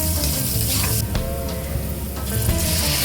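Garlic and onion sizzle loudly and continuously in hot Baguio cooking oil, with a close, bright hiss and faint stirring scrapes throughout.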